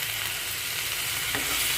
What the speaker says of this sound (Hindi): अब इस टमाटर को सॉफ्ट होने तक इसे हम मसाले को भूनेंगे